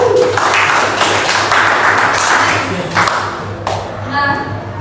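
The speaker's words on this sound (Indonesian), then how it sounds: "Tepuk tangan" A classroom of students clapping together during an arts and culture dance lesson, a burst of fairly loud rhythmic claps that fades, with a few voices mixed in.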